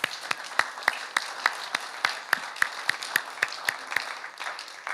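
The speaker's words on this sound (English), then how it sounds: "I think they deserve a round of applause, too." A small audience applauds after a chess piano concert, with sharp, distinct claps in a fairly quick, even rhythm that stays moderately loud and close, with no talking over it.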